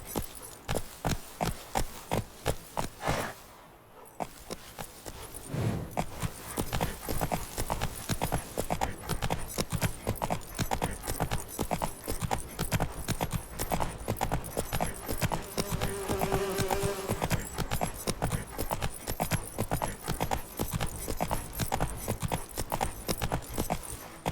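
Roach the horse gallops continuously in The Witcher 3, hooves clip-clopping in a fast steady rhythm for the whole stretch, with a short pause early on and no talking.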